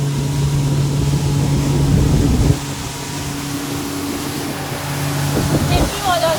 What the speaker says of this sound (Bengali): স্পিডে বোটটা যাচ্ছে